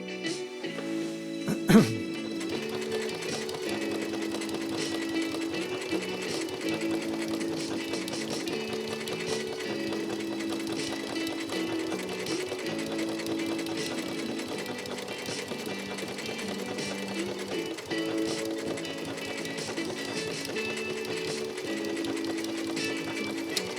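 A Janome Memory Craft 6700P sewing machine stitches a decorative pattern with a steady, close, mechanical whir and rhythmic needle clatter that runs continuously for over twenty seconds, preceded by a brief sharp click.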